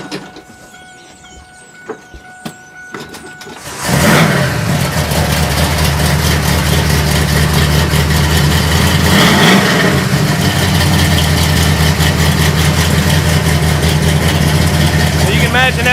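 The engine of a 1956 Cadillac Coupe DeVille fires up after a few quiet seconds of small knocks, then settles into a loud, deep, rumbling idle with a swelling rev in the middle, close by, with people talking over it.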